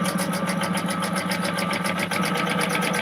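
Sewing machine running steadily while stitching a wallet seam at a quarter-inch allowance, a fast, even mechanical whir with rapid repeating stitch beats, close and continuous.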